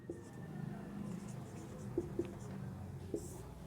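Marker or chalk strokes on a classroom board during a Hindi grammar lesson on sandhi: faint, soft scratching with a few sharp taps, under a low room hum.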